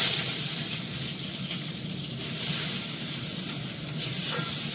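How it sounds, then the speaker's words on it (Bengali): Cut cabbage and potatoes fry in a pan with a steady, close hiss of oil that swells slightly partway through and runs continuously without voices. "বাঁধাকপি আলুটা কেটে নিয়েছি, এটাকে আমি ভেজে নেব, ভালো করে লাল করে ভেজে এটা বসাবো"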